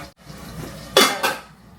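Lid lifted off a pan of Telangana sarva pindi as it cooks, giving two quick close metallic clanks a moment apart over a soft background hiss.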